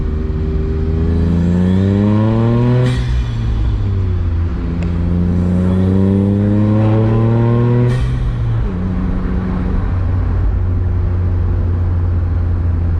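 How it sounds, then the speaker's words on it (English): A Honda S660's small engine revs up through the gears close by, rising in pitch with each shift, loud and continuous. "This is an incredible car, Dickie."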